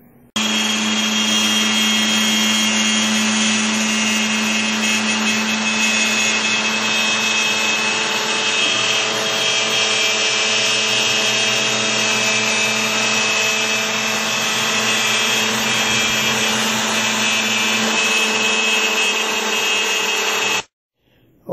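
A CNC router cuts a wooden frame out of a plaque, giving off a loud, steady high-pitched whine with grinding undertones that runs continuously before stopping abruptly near the end.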